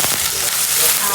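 Onion sizzling in a pan, a short burst of bright, loud frying crackle heard close up.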